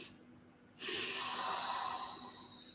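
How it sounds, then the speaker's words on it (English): After a short quiet start, a single long, forceful breath is pushed out through the nose during a stress-relief meditation, loud and close, a breathy hiss that slowly fades over about two seconds. "You're just breathing it all out through the nose."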